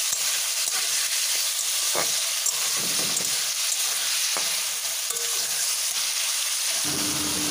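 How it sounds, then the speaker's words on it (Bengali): Thin julienned potatoes fry with ginger paste in a pan, giving a steady, dense sizzle. Occasional scrapes and taps of stirring sound close up, with no voices. "আলুটা দিয়ে আদার সঙ্গে ভালোভাবে ভেজে নেব।"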